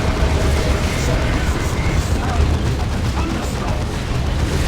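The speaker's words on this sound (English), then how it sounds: "Rocket launchers are still hitting the Baneblade" Rockets pound a Baneblade super-heavy tank in a Dawn of War 2 battle, giving a dense, continuous barrage of booming explosions and gunfire. The roar holds steady throughout with no clear pauses.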